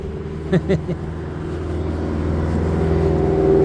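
A steady engine drone from passing traffic builds gradually, with a few brief thumps early on and a continuous vehicle rumble throughout.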